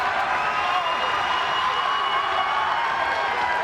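Wrestling arena crowd at a TNA Impact Zone event roaring and cheering continuously after a near-fall kickout, a dense, loud wash of voices and whoops with scattered clapping throughout.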